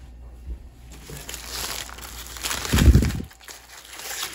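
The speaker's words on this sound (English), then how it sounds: "Let's unwrap it, see what we got." A Wendy's Pretzel Bacon Pub Burger wrapper is unwrapped up close, with soft paper crinkling and rustling that builds to a louder crumpling burst before settling.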